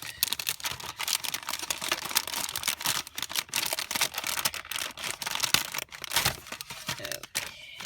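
Scissors snipping through the paper plate of a Japanese DIY candy kit, with dense, rapid crisp cuts and crinkles close up and no talk.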